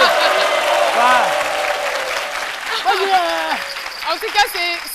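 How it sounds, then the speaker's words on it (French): A studio audience on a midday television show in Côte d'Ivoire claps loudly and steadily, while a presenter talks over the sustained applause. "On applaudit encore très très fort"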